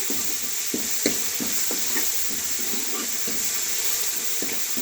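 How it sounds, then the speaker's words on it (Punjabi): Coriander roasts in a pan while making chana dal, a constant close sizzle broken by regular scraping strokes of a spoon stirring, with no talking over it. "ਹੁਣ ਆਪਣਾ ਧਨੀਆ ਵੀ ਭੁੰਨ ਲਵਾਂਗੇ"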